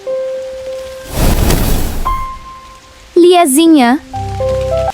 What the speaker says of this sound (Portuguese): A chuva tá muito forte lá fora.